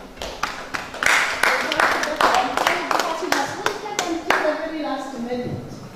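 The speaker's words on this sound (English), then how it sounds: "Please clap for her." Audience clapping for a speaker in a theatre, individual claps clearly separated and fairly close, starting sparse then building into a brief burst before tapering, with some voices underneath.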